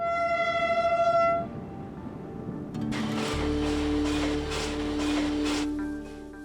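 A train in Xinjiang, apparently a coal-hauling line, rumbles past with a loud low rolling roar and rhythmic clatter after a sustained horn tone at the start; no one speaks.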